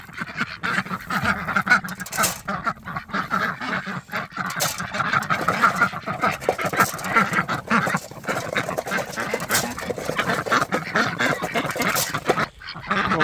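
Ducks quack and honk in a busy, continuous chorus while feeding, with splashy pecking noises and a dog-like bark or two mixed in.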